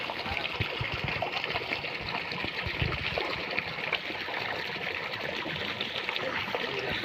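Water flows on a farm with mustard, fennel and castor crops, a steady, close rushing and gurgling that runs continuously without a break.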